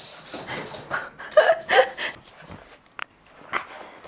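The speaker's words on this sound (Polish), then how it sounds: "Dobry piesek!" A dog plays tug, letting out short whimpers, yips and snuffling breaths in bursts, close and fairly loud, with a brief sharp click partway through.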